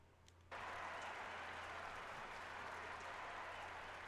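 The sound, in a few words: crowd applause in Trails of Cold Steel video game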